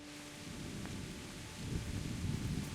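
Rain pours steadily during a thunderstorm in the medieval game Kingdom Come: Deliverance, with a low rumble of thunder swelling partway through, all fairly faint and without talk.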